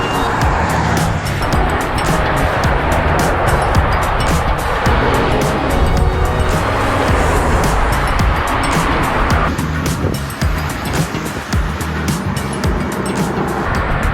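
Traffic on a busy main highway in Maui rushes past steadily, with cars and engines whooshing by close and loud along with wind noise, continuous for the whole stretch.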